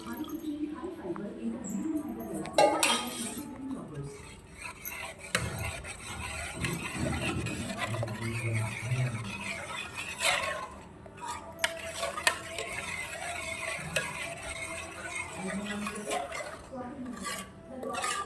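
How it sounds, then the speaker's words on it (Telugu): Sorghum porridge (jonna gatka) mixed with buttermilk is stirred in a pot, with a spoon scraping and clinking against metal in irregular strokes while voices talk over it. "మమ్మీ అయితే జొన్న గట్క కలుపుతుంది మజ్జిగ పోసి"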